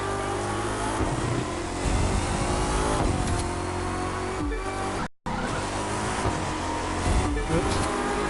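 A car in The Crew 2 racing game revs hard and loud with a dense, continuous engine roar and tire squeal, briefly cutting out for a moment midway.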